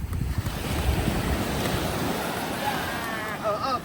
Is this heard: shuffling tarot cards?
no